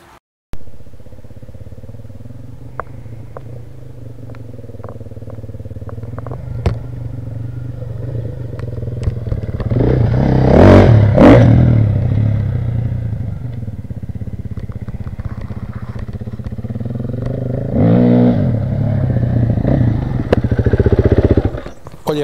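A 2024 GasGas EC 450 F enduro motorcycle idles close by with a steady low thump, then revs up to a loud peak near the middle, settles, and revs again toward the end.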